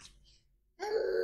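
A voice imitates a lion's roar with one short, throaty call that starts after a moment of near silence and holds for about half a second.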